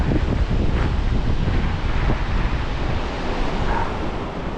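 Strong, steady wind roars and buffets the microphone at the Glines Canyon Spillway overlook above the Elwha River, a continuous broadband rush with no pauses.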